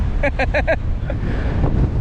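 Strong wind at Steep Point on the Western Australian coast buffets the microphone with a steady low roar throughout, and a few brief clattering clicks sound early on.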